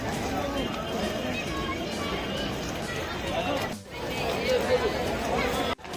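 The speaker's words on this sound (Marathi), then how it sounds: "आज पहिला श्रावणी सोमवार आहे त्याच्यामुळे भरपूर गर्दी आहे" Dense crowd of devotees at Trimbakeshwar temple on the first Shravan Monday, a steady close babble of many voices with shuffling and movement throughout, briefly dipping before resuming.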